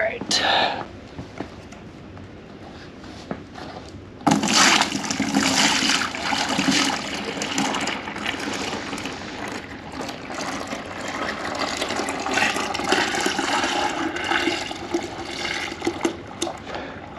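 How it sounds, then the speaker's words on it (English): Liquid ballistic gel (DK's Snake Oil) is poured gently. A few seconds of quieter room sound give way to a steady splashing, trickling pour that continues throughout, with soft murmured talk over it. "Obviously, you want to pour as gently as possible."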